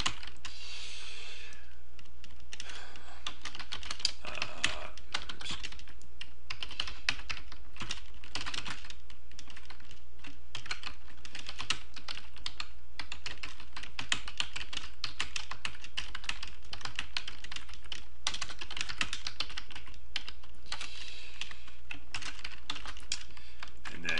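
Steady typing on a computer keyboard, a long run of quick, close key clicks in uneven bursts with brief pauses, over a low constant hum and no talking.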